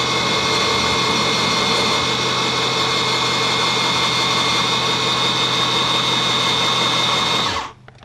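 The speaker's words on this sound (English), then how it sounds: "We're going to then use the chamfer and deburring tool in addition to the primer pocket cleaner" Motorized chamfer, deburring and primer pocket cleaning tool working on brass cartridge cases for ammunition reloading, a steady loud high-pitched whirring drone that runs continuously and then winds down and stops at the end.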